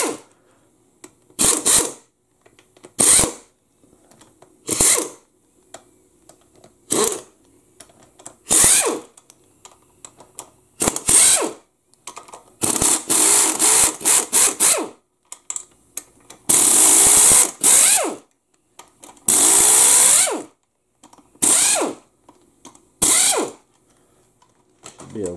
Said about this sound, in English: I need to remove these bolts here.